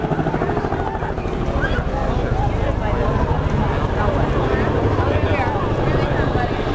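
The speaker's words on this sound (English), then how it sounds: "CH-47 Chinook helicopter, and they're going to do a little helo casting." A CH-47 Chinook helicopter at an air show flight demonstration gives off a loud, steady rotor roar and rhythmic blade thumping that runs continuously throughout, with a public-address announcer talking over it.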